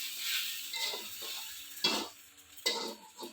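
Rice and lentils for khichuri are stirred in a pot with a utensil, giving soft scraping swishes and a light sizzle, with a few sharper metallic clinks against the pot's side.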